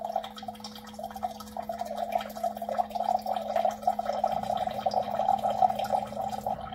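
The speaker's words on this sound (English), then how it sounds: "I'm getting some water." Water dispensing from a Waterfirst reverse osmosis purifier into a glass, a steady soft trickling and filling sound that runs continuously and grows slightly fuller toward the end, with a low hum from the unit underneath.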